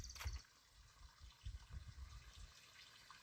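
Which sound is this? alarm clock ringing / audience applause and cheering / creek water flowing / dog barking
creek water flowing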